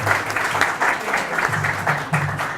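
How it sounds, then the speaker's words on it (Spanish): Audience at a round-table panel on post-earthquake urban reconstruction claps for an introduced speaker, a short burst of steady, fairly close applause. "Un aplauso, por favor."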